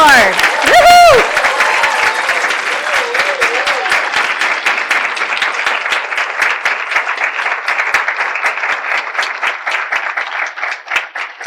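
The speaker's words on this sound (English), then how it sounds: "So let's give a huge round of applause to our 40 under 40 class of 2084." An audience at an awards ceremony for food policy changemakers bursts into loud, sustained applause with some cheering, a brief whoop near the start, then dense steady clapping that slowly thins out.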